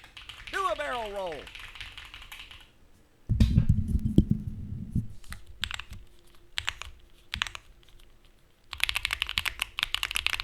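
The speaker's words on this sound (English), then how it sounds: "My ultra silent keyboard is now like the loudest keyboard I have." Typing on a modified ultra silent computer keyboard, bursts of rapid clicky keystrokes in irregular clusters, fairly close, with a voice talking briefly at the start and some low noise in between.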